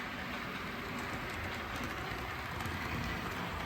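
A small OO scale model train rumbles steadily along its layout track with a continuous rattling whir, close by and fairly quiet, with no talking.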